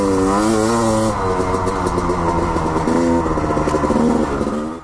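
A 2003 Honda CR250R two-stroke dirt bike engine runs loud and close throughout, its pitch rising and wavering as the throttle is worked, with no talking over it.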